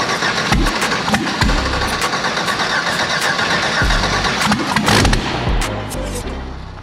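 A Honda Civic with a swapped 5.3 LS V8 engine cranks, catches and revs in a few rough bursts on its first start before settling into a loud idle, close by, with voices speaking over it.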